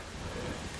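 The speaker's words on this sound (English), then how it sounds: "Very windy. Headwind." Steady, broadband wind roar buffets the microphone throughout, loud and continuous with no pauses, a strong headwind while cycling out of Riga, Latvia.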